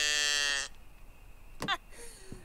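A cow moos in the video game Ghost Hunters Corp, one loud drawn-out call up front followed by fainter short animal sounds in a quiet room.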